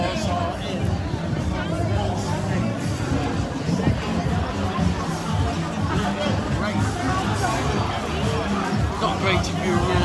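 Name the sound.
crowds on the Benidorm seafront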